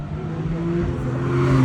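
An Alpine car drifts with its engine revving in a sustained, fairly close droning whine that swells slightly toward the end.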